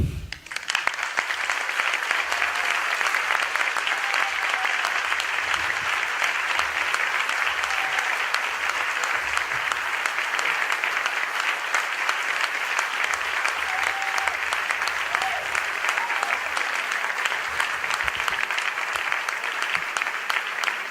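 Sustained applause from a large audience at an awards ceremony, dense and even clapping that continues at full strength for the whole stretch.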